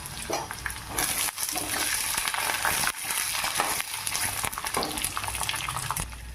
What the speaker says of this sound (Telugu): ఇప్పుడు బఠానీలను వేసుకొని బాగా మిక్స్ చేసుకోవాలి.